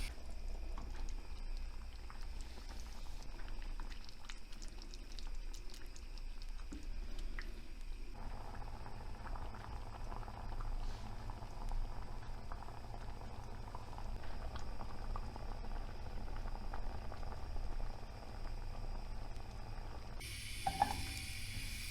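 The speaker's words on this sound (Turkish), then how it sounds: "Kaynayınca altını kısalım." A pot of purslane and legume stew bubbling steadily on the stove, a soft continuous simmer with faint gurgles and occasional small clicks, close by and quiet.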